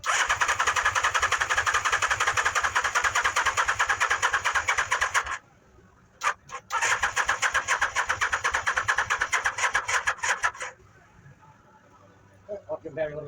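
A newly built Mini Baja truck's engine cranked by the starter in two long bursts of rapid rhythmic whirring, separated by a pause with a few clicks, without catching; faint voices come in near the end.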